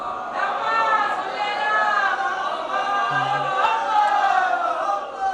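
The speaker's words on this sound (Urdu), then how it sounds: "ایک نعرے صلوات پڑھیں آپ حضرات بآواز بلند" A large congregation gathered at an imambargah for a Jashn-e-Babul Hawaij celebration chants salawat loudly in unison, a steady, sustained mass of voices filling the whole stretch without pause.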